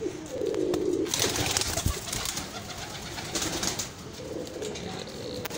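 Teddy breeder pigeons cooing in a loft, low throaty coos in two clear bouts near the start and end, with soft rustling and faint background noise between them.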